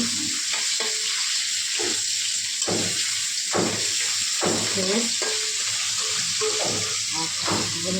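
Hilsa fish frying in hot oil in a pan, a loud continuous close sizzle with several sharper bursts and spatula scrapes as the pieces are turned over.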